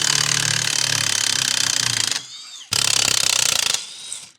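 Half-inch tight-reach ratchet wrench working on a boat trailer hub, loud rapid clicking in two long bursts separated by a brief pause, close and alone.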